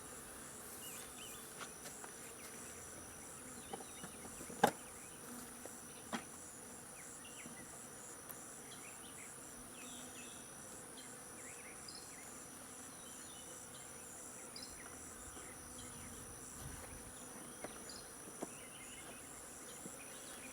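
A swarm of honey bees buzzes around a hive box outdoors, a faint continuous insect drone with occasional sharper knocks and rustles, no voices.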